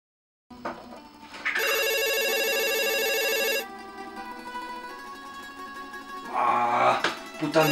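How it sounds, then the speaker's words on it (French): A telephone rings indoors: a loud, sustained electronic ring lasting about two seconds, followed by fainter tonal ringing and then some handling noise near the end. "Putain de téléphone encore."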